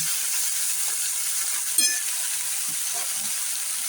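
Spices go into a cauliflower and pea dish frying in a pan, a constant close sizzle with a brief clink and small stirring sounds midway.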